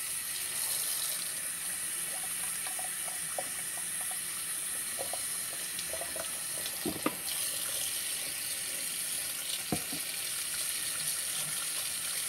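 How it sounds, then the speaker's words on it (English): A tap runs steadily into a sink while hands are washed, a constant hiss of flowing water with scattered light splashes and a couple of sharper knocks, no talking. "I'm gonna wash my hands."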